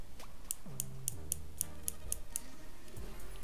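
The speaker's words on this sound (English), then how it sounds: "that's a clicking star wheel." The star wheel of a Shimano Metanium DC 70 baitcasting reel clicks in a quick, even series of sharp ticks, close and quiet, with no one speaking.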